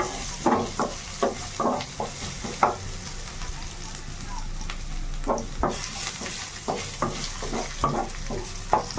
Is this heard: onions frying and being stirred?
yes